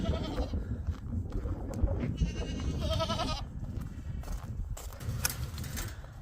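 Goats bleat intermittently from a nearby barn stall, several short wavering calls spread over a few seconds amid shuffling and rustling noise.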